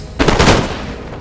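A single musket volley from a line of soldiers in Empire Total War, set in the American Revolutionary campaign, booms out as one loud, dense crack that rolls into a fading rumble over about a second.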